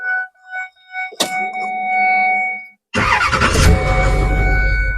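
Chimes and a clunk from inside the cab, then an LMM Duramax diesel truck engine cranks and catches, settling into a loud, rough, clattering idle right up close after fresh injectors.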